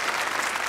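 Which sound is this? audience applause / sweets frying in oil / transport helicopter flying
audience applause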